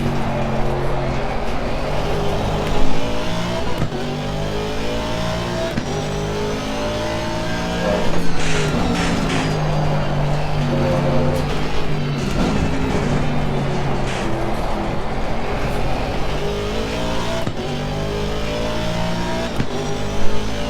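Aston Martin V8 race car engine in Assetto Corsa Competizione at Zandvoort, revving hard through repeated upshifts and downshifts, with loud rising and falling engine notes and occasional sharp pops across the stretch.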